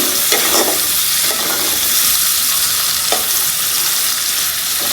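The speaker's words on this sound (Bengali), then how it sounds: "এখানে পেঁয়াজ দিলাম পাতিলে তেল দিলাম আর সর্ষার তেল" Onion fries in mustard oil in a cooking pot, a loud, dense and continuous sizzle with occasional stirring scrapes, no voices present.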